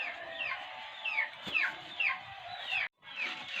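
Chickens clucking in a coop, a close series of rising squawky clucks every half second or so, loud and clear against a quiet background with a brief break near the end.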